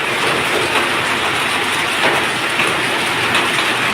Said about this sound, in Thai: ฝนแรงมาก